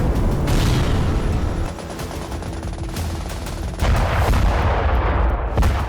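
Turkish army artillery fire in an attack on PKK and YPG positions in Syria, heard as continuous heavy booming and rumbling blasts, dense and loud throughout with no pauses.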